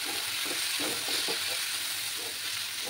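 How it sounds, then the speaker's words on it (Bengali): Cumin and coriander powder with a splash of water fry in a pan for a Bengali small-fish chorchori, giving a continuous close sizzle with soft crackles and stirring scrapes. "ভালো করে মশলাগুলোকে কষিয়ে নিতে হবে।"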